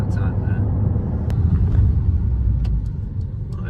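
Mercedes A-Class car accelerating up to 60 mph, heard from inside as a steady low engine and road rumble, with faint ticks over the drone.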